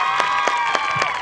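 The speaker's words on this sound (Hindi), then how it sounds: "तालियां हो जाए।" Audience applause at a college annual function, clapping rising in rhythmic bursts over a sustained musical tone, crowd-filled and moderately loud.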